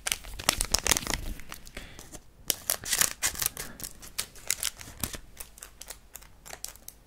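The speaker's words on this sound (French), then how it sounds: "Vas-y, j'ai pris des ciseaux." Scissors snip open the packaging of a Pokemon Mew V box, giving sharp, close cutting clicks and crisp tearing and crinkling of plastic and cardboard in quick irregular bursts, with no talk.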